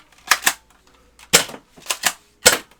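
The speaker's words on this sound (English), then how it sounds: "2 shots just like that, and it fired pretty well." A ZWQ S200 Fire Rat foam dart blaster fires two shots up close, heard as loud, snappy clacks of the priming and firing mechanism in quick pairs with short pauses between.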